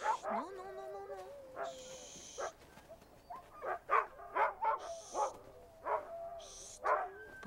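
Sled dog barking outdoors near a trapper's dog team, a series of close, sharp barks and whines in uneven bursts, with soft murmured speech in between.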